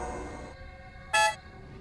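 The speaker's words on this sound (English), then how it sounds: "Oh, that sounds like a good alarm." An alarm goes off in the video game Escape from Hypercube: a short, loud, horn-like blast about a second in, cutting over quieter tonal game sounds and lasting only a moment.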